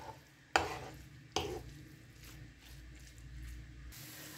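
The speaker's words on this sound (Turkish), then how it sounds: "Ve yine ocağıma alıp 1-2 dakika kadar Tekrar karıştırarak pişirelim." Spoon scraping and stirring minced meat filling for börek in a pan on the stove, two sharp clinks against the pan followed by soft sizzling and shuffling, quiet and close.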